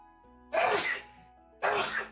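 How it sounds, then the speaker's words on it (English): Two loud, close sneezes about a second apart, each a sharp burst with a short trailing breath, standing alone against a quiet background. "I feel like I might sneeze."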